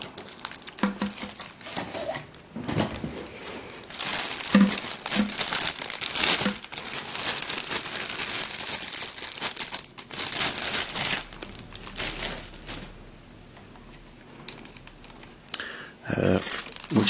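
Plastic packaging crinkles and crackles up close as a puzzle box is unboxed, in irregular bursts of handling with short pauses and a few rustling taps.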